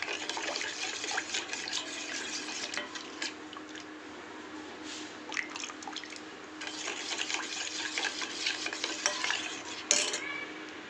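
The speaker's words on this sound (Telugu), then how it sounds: "అదేవిధంగా పంచదార అనేది యాడ్ చేసుకోవాలి ఈ విధంగా కలుపుకోవాలి" Grated coconut mixed with sugar, stirred in a bowl with a continuous wet, gritty scraping that pauses briefly midway and then resumes, close and fairly loud.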